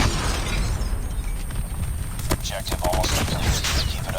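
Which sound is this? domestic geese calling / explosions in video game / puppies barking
explosions in video game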